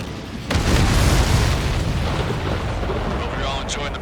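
A supply ship explodes in Ace Combat 7 with a sudden heavy boom, then a long, loud rumbling roar that slowly fades, with faint radio chatter near the end.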